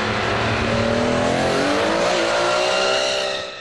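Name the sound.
Nissan Skyline drifting with tyre squeal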